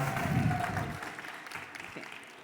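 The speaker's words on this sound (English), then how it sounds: "round of applause, please, for Cynthia and Mi Bolsillo" An audience at a startup pitch stage at South Summit Bogotá applauds a presenter and her company. A burst of clapping is loudest in the first second, then thins and fades into quieter room noise.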